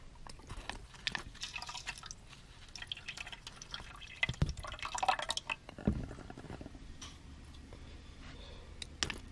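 Water drips and splashes irregularly as wet soil is sieved outdoors over a basin to evaluate particulate organic matter. Close, scattered patters and trickles come with occasional louder splashes, and no one speaks.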